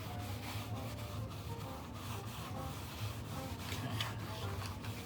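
Steady soft scrubbing of a vinyl record being cleaned with light pressure, a close, rhythmic brushing rub that continues evenly without pause.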